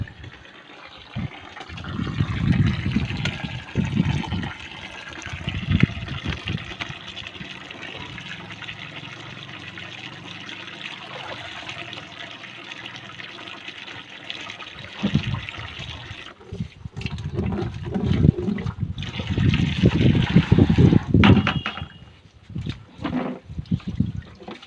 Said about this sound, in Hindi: और देखिए अब धोने लग गई हूँ मैं कपड़े